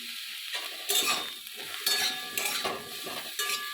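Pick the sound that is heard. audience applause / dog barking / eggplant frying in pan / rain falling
eggplant frying in pan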